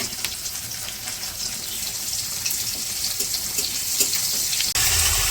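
Bengali potato chops, beguni eggplant fritters and onion fritters deep-frying in oil, a steady bright hiss and crackle throughout with a brief clatter near the end, no voices.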